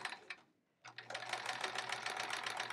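Sewing machine doing free motion quilting on a baby quilt, a brief start then a steady fast rhythmic stitching whir with a low hum underneath, close and alone.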